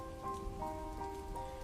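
Steady rain falls outside a house during a thunderstorm, heard through a broken window as a constant, moderately loud patter with faint tonal music-like hum running beneath it and no voices.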